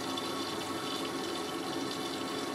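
A Miele W562 Prestige Plus 6 washing machine fills with water through its spray inlet, a steady, even rushing hiss that continues unbroken with no voices.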